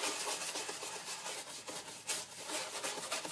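An old household paintbrush rubs a thin layer of gesso in circular strokes, giving a continuous dry, raspy scrubbing with rhythmic surges, close and fairly soft, with no talk.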